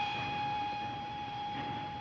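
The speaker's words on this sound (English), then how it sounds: "The train!" Steady rumble of a train carriage running in the 1940 film Night Train To Munich, with a constant high whine over a broad low roar, continuous and fairly close.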